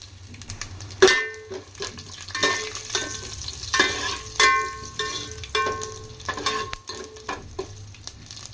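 Mustard seeds, cumin and dried red chillies tempering in hot oil for brinjal dal, a steady close sizzle with crackles and a few louder stirring clinks and scrapes, no talk.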